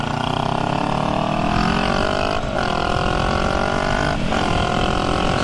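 Honda Rebel 500 motorcycle engine pulling hard on an open road, a steady loud drone rising in pitch, with brief dips at two gear changes and constant wind rush throughout.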